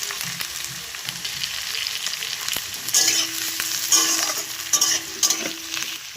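Ghee sizzles steadily in a pan while a utensil stirs it, a continuous frying hiss with scraping strokes that grow louder and clatter near the end; no talking.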